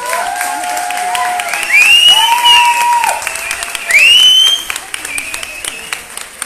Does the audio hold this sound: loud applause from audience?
yes